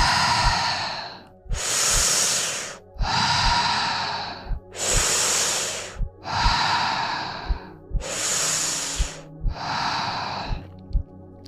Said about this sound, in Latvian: Atkal atpakaļ ritmā, ieelpa, izelpa, ieelpa,